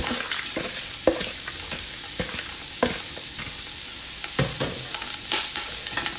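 Chopped vegetables with onions sizzle loudly in an oily frying pan for a lasagna bolognese, with steady frying hiss and repeated scrapes and clacks of stirring throughout.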